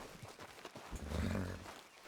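A horse's hooves clip-clop at a walk in the video game Red Dead Redemption 2, soft rhythmic thuds on a dirt path mixed with a low rumbling swell of outdoor ambience.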